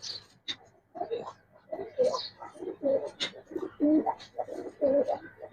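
Colored pigeons coo repeatedly in a series of soft, throaty, rhythmic calls at close range, with brief pauses between them and no talk.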